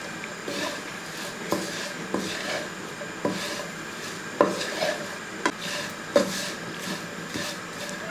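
A spoon scraping and knocking against a pan while potato fry is stirred, giving irregular light clinks and taps over a soft sizzle, close by.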